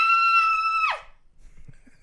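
A human voice imitates the Pokémon Victreebel's cry: one loud, sustained high-pitched scream that holds for most of a second, then slides sharply downward and cuts off into quiet.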